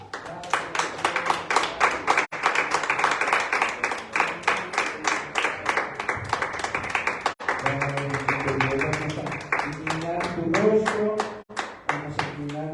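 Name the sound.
church congregation clapping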